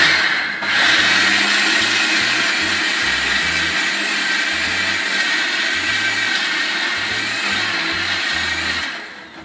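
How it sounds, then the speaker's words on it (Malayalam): A kitchen mixer grinder grinds soaked urad dal into batter for Kerala-style medu vada, a loud, steady close-up whirring drone with a rumbling low rattle, running continuously for nearly the whole stretch before winding down at the end. "നമ്മളിപ്പോൾ ഇത് മിക്സിയിൽ അരച്ച് ഉഴുന്ന് ഒരു പാത്രത്തിലോട്ടാക്കി വെച്ചിട്ടുണ്ട്"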